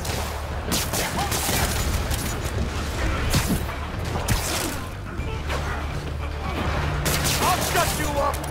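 Rapid bursts of gunfire in the Spider-Man Remastered video game, crackling repeatedly amid explosions and chaotic action, with voices shouting over the din.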